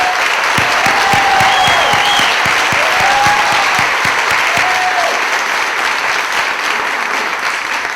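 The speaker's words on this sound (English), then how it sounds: "please, one more rousing round of applause for the MNFF 5 staff" A festival audience on opening night gives a rousing round of applause for the staff, loud sustained clapping with scattered whistles and cheers, slowly thinning toward the end.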